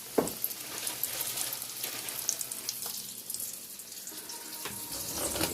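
Steady hiss and crackle of chicken frying in hot oil in a deep fryer, continuous and fairly close, with a few sharper pops and splashes.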